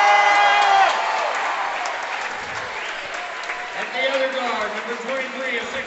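A crowd at a basketball tournament championship applauds during player introductions, a dense, sustained wash of clapping that eases slightly while an announcer talks over it.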